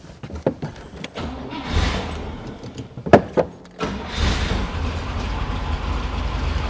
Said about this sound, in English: I'm going to start this car up now